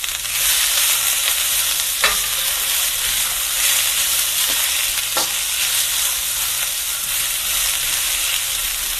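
Food frying in a pan over medium-high heat, a loud, dense, continuous sizzle with a few sharp clicks and stirring scrapes.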